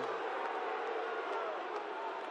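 Crowd at an Iowa high school state wrestling championship, a steady roar of cheering and shouting from a large audience in an arena, sustained throughout.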